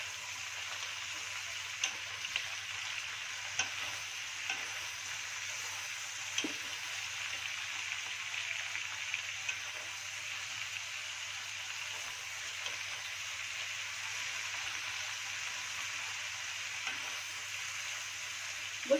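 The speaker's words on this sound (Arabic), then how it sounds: "ونبتدي نقلب اهو زي ما احنا شايفين كده" Shrimp shells frying in a pot while being stirred, a steady soft sizzle with scattered faint ticks and scrapes, fairly quiet and without talk.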